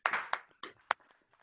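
Hands clapping for five company directors at an orientation training event, a few sharp claps in quick succession, near and fairly loud, with no talk over them.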